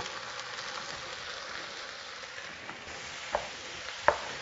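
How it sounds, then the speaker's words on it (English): Onions fry and caramelize in a pot for French onion soup, giving a steady soft sizzle and crackle throughout, with a couple of faint clicks near the end and no talk. "you want them to cook all the way down and caramelize them really, really well"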